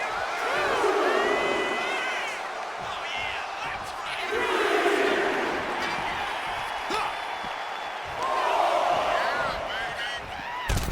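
Crowd noise rises and falls in the WWE 2K25 wrestling video game as a wrestler fires up the arena, with loud waves of cheering and shouting under continuous match commentary.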